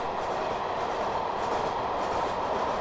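Mark 1 railway coaches rolling along in Train Simulator 2018 give a steady, continuous rumble of wheels on track, close and unbroken, with no voices.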